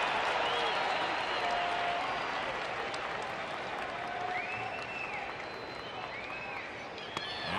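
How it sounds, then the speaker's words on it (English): Angel Stadium baseball crowd during an MLB Blue Jays–Angels game, a dense, steady roar of cheering and clapping that holds loud throughout, with scattered whistles rising above the din. "As the crowd gets louder here at Angel Stadium."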